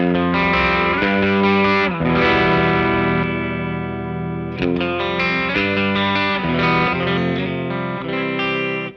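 PRS Modern Eagle V electric guitar on a humbucker pickup, playing dense overdriven chords and riffs with a brief pause midway, loud and alone with no talking.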